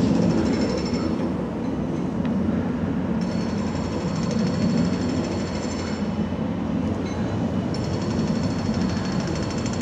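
A train idles and rumbles at Newark Castle railway station, a steady low mechanical drone with a faint high whine that drops out and returns, heard alone with no voices.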